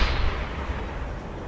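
A single heavy, booming report from a submarine deck gun in the UBOAT video game, loud at the onset and rumbling away into a low, fading tail.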